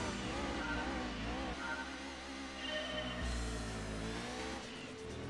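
Subaru Impreza race cars in the Gran Turismo 2 video game, engines droning steadily and loudly throughout, with revving pitch shifts as the cars race alongside other Imprezas.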